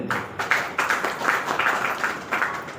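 Audience applause at a foundation's anniversary gathering, a steady run of clapping from a crowd with soft rhythmic peaks, lasting a few seconds at moderate loudness with no talk over it.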